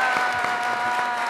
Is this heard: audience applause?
yes